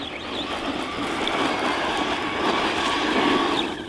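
An ARRMA Typhon 3S BLX brushless RC car running flat out at full throttle, a steady, high-pitched electric whine with tire noise, sustained and fairly close throughout.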